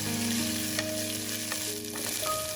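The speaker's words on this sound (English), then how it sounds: "Let them sizzle and pop for a couple of minutes." Steady sizzling hiss of mustard seeds and curry leaves frying in hot ghee, with a few sharp pops and faint tonal hum beneath.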